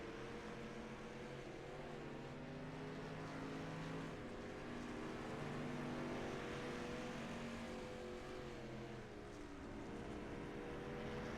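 Street stock race cars with asphalt bodies running hot laps on a dirt track, a steady droning engine roar that stays fairly distant and even throughout, with no talking.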